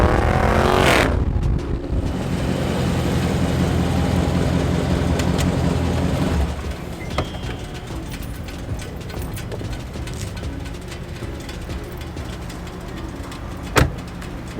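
A 2019 Dodge Charger Scat Pack on the move, its engine a steady low drone with road roar that's louder for the first six seconds, then eases into quieter cruising with a brief thump near the end.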